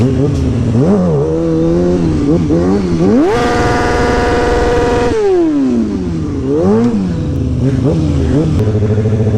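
A motorcycle is ridden close by with its engine rising and falling through several revs, climbing to a sustained high-pitched scream mid-clip before dropping back to a lower burbling idle.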